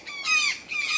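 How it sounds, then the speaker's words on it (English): A flock of parrots squawks loudly in a tree-lined mountain setting, two long bursts of overlapping harsh calls close together, with no talking. "that sounds like a flock of parrots. They make a lot of noise."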